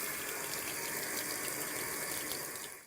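A garbage disposal's rubber splash guard being washed and scrubbed with dishwasher detergent in a kitchen sink under running water, a continuous close hiss of flowing water and scrubbing with no talking.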